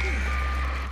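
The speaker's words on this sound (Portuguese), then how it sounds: "não consigo desligar o alarme" An alarm sounds in Far Cry 4 as a steady electronic tone over low rumbling background noise, continuous and fairly loud.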